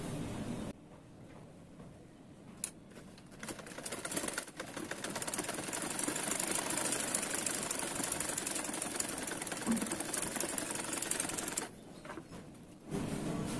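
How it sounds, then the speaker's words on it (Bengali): A sewing machine hums steadily for about ten seconds as it stitches the front seam of cigarette pants. Brief pauses and clicks come at the start and end, and no voice is heard. "সামনের হাইটাকে সেলাই করে যাব।"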